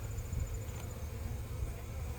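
A low, steady buzzing hum of bees inside a beehive gourd, faint and muffled as if through the shell, continuous with no talk.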